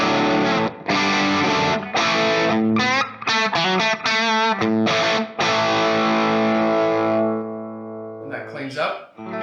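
An electric guitar plays through a Fractal modeler scene called Stock with Drive, a driven distortion tone carrying loud sustained chords and quicker picked phrases with short gaps, ending in a faint ringing tail and a brief bent note.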